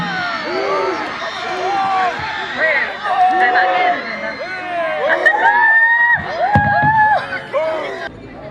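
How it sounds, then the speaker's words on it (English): Students cheer for their team at a school games and sports event, a lively crowd of overlapping shouts, whoops and screams that keeps swelling and fading, near and loud throughout. "Come on, students, cheer for your team."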